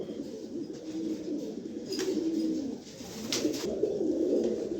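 Pigeons at a pigeon seller's are cooing close by, low throaty coos rolling on steadily and overlapping, with brief brighter chirps mixed in.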